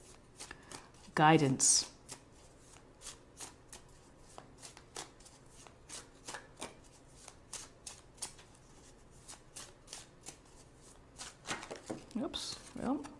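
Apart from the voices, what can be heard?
shuffling and drawing tarot cards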